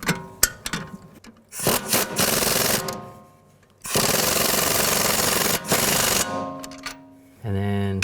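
18mm wrench snugging a nut onto the slotted strut stud of a 2004–2010 BMW X3 front strut assembly, harsh ratcheting and scraping bursts separated by short gaps, close and loud.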